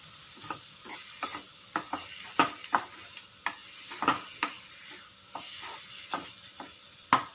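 Finely chopped tomatoes and vegetables for Mumbai-style masala pav are stirred in a sizzling pan, a string of sharp spatula knocks and scrapes over a soft frying hiss, no voices.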